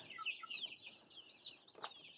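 Australorp chicks peck at feed scattered on the ground and let out quick, high, faint peeps and soft clucks, bunched in short bursts with a louder call near the end.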